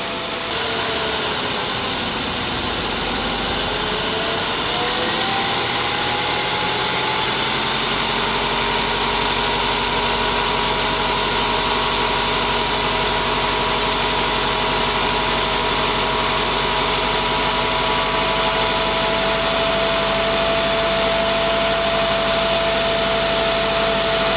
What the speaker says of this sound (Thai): ลองเร่งเครื่องนิดนึง